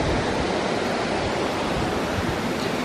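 Grande cascade at Cascades du Morel in Saint-Oyen, Savoie: a dense, continuous roar of falling water, broad and steady like surf, filling the whole clip with no voices.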